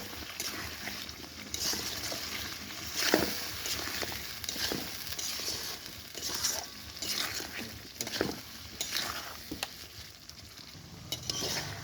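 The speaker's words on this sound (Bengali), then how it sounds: "এবার এটাকে মশলাটাকে ভালো করে কষে নেব" Spice paste with salt and turmeric being fried and stirred in a pan for a spicy red chicken curry: a soft continuous sizzle broken by scattered scraping and tapping strokes of the spoon, quiet and close, with no talking.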